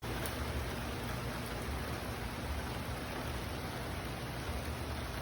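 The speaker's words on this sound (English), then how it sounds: "It's definitely raining right now." Rain falls steadily, a constant close hiss of drops on surfaces with no break or change in strength.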